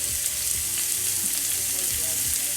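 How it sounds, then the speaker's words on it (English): Cube steaks browning in a frying pan before going into a crock pot give a loud, continuous sizzle and crackle, with low scraping stirs and bumps underneath. "So now I'm working on just browning these cube steaks before I put them in the crock pot."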